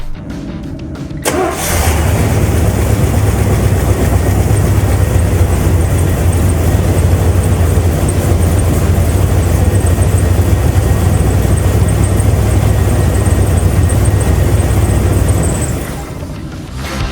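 A vehicle engine cranks and starts after an oil change, then settles into a steady, loud, close idle that runs unchanged for about fourteen seconds before cutting off, with no talking.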